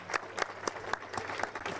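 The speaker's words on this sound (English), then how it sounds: "And a big round of applause for the final podium in the pro classification of the sport division." Crowd applause for the final pro podium at the Porsche Sprint Challenge in Barcelona, a short burst of scattered clapping heard at a moderate distance.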